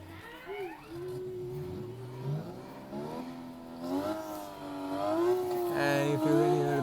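A Porsche 955 driving simulator plays synthetic engine sounds as the accelerator is pressed, rising and falling revving tones that climb in pitch and loudness, with faint room voices behind.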